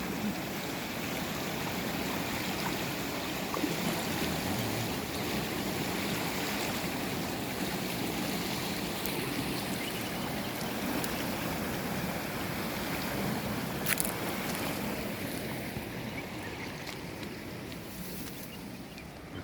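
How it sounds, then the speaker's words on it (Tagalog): A strong river current flows with a steady, broad rushing wash that continues unbroken from start to finish, with no voices. "malakas ang agos"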